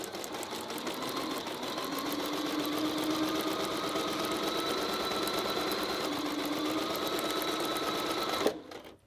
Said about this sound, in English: And then I'm going to sew all the way from the dotted edge